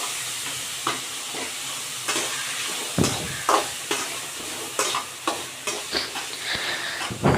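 Potatoes frying in hot oil hiss steadily and loudly while a spoon scrapes and knocks against the pan in a string of irregular strokes.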